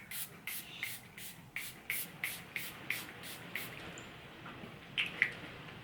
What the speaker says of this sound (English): let's spray Metatron again and see how he looks now